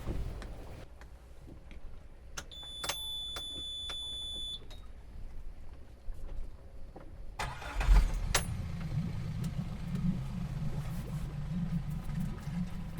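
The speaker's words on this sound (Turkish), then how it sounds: "Motorumu çalıştıracağım." A moored boat's inboard engine near Dikili, Turkey, cranks and catches about halfway through, then settles into a steady, close, low idling rumble. A few electronic beeps sound beforehand over quiet background.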